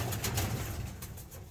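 A blue bar cock pigeon, an inbred son of a loft's breeding bird, gives a soft low coo, faint and close, in a brief burst with no talking.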